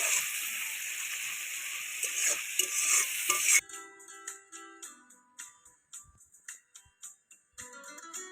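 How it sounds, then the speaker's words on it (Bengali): Water with four green chilies being stirred and brought to a boil in a pan, giving a close, steady bubbling hiss that drops away into a series of short, separate stirring scrapes and clinks. "পরিমাণ মতো জল, খুব ভালো করে নাড়াচাড়া করে ফুটিয়ে নেব।"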